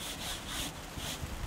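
A brass bristle brush scrubs tinted acrylic paint off cedar weatherboards, giving quiet rapid back-and-forth rasping strokes in a short, faint burst with no talk.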